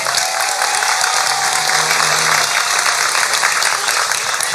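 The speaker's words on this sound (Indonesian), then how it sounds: "Tepuk tangan kagem Pak Ipin." A crowd at an Islamic sermon gathering claps for a guest, with dense, steady applause throughout that holds at an even level and faint voices mixed in.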